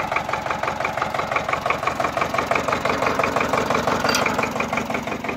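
A tractor engine runs steadily nearby in a garden being ploughed, a rapid, even knocking chug that stays constant with no voices.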